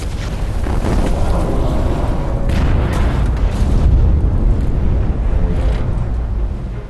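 A torpedo strikes a ship at sea during a Second World War submarine pursuit, producing a sustained, loud, rumbling explosion that rolls on for several seconds with heavy low-end roar and no voices.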